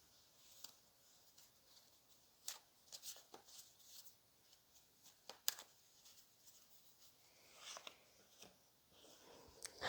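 Tarot cards are shuffled and pulled in a quiet room, giving soft scattered rustles and sharp card flicks, sparse and faint with no talk.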